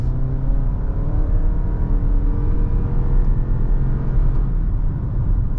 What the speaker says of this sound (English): So now I want to accelerate. I want to go ahead and pick up speed.